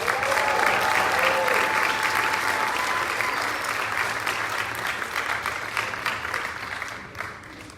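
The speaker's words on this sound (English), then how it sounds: "let's give them another big round of applause." An audience at a high school summer concert gives a loud, sustained round of applause, dense clapping that gradually tapers off near the end.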